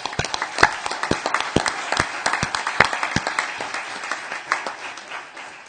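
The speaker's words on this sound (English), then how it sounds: "we'd like to give uh, um, HR a round of applause for all their hard work" A crowd at a city council meeting breaks into applause, a burst of loud, irregular claps that gradually thin out and fade over several seconds.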